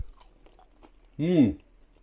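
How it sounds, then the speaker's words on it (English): Crunchy bite into an air-fried chip cooked in a Ninja air fryer, a single close, loud crisp chew lasting about half a second after a quiet pause, with faint background sounds before it. "Lovely crunch to it."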